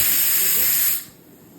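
A pressure cooker vents steam in a loud, close, continuous hiss for about a second, then cuts off abruptly, leaving a quiet room.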